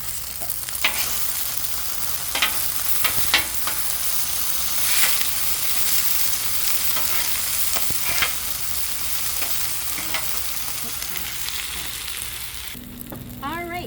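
Shallots and green onion stir-fry on a Blackstone griddle, giving a steady close sizzle punctuated by sharp spatula taps and scrapes throughout, with no talking.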